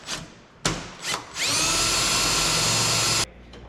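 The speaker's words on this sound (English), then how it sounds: "So I drilled right to the bottom." A power drill bores through a metal cab panel on a K100E cabover truck under restoration. A few short bursts come first, then one steady, loud, high whine lasts about two seconds before it stops abruptly.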